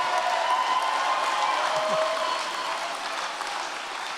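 A graduation audience at a university's School of Film, Media and Communications keeps up loud, continuous applause and cheering, a steady wash of many hands clapping that tapers slightly toward the end.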